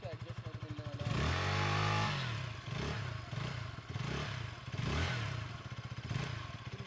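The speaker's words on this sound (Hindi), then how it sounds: "तो बाइक को मैं स्टार्ट करता हूँ, आपको दिखाता हूँ कि एग्जॉस्ट नोट कैसा एक तरीके का।" A 2025 KTM Duke 160 motorcycle engine runs near and loud, revving up in a strong burst and then settling into repeated throttle blips over a steady exhaust note, with someone talking over it.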